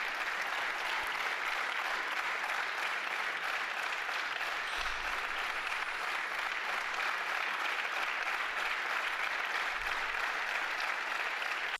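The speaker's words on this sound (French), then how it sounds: "Ils applaudissent" Sustained applause from a French parliamentary assembly audience, a steady dense wash of clapping lasting throughout, fairly distant and even in level with no talk over it.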